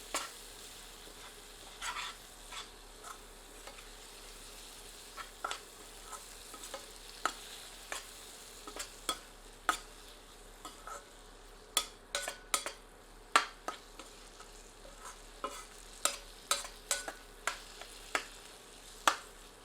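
Tomatoes with spices are stirred in a pan: a quiet sizzle runs underneath while a spoon scrapes and taps the pan in irregular clicks, close and fairly faint.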